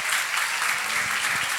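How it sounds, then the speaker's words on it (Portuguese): A church congregation applauds at a worship service, a dense, steady wash of clapping from many hands that holds evenly across the short stretch. "Aplauda o Senhor Jesus"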